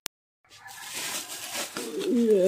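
Pet pigeons give low, throaty coos that grow louder toward the end, after a brief click and a moment of silence.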